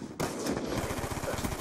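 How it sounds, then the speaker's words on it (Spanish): Rapid automatic gunfire in the shooter game Black Ops 2 bursts in after a brief quiet moment, then continues as a loud, steady run of close shots. "Yo por si acaso disparo, tío."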